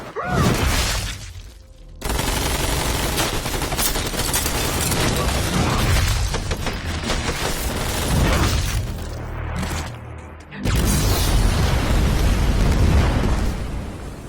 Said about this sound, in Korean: 하지만 폭발로도 옴니맨은 죽일 수 없었고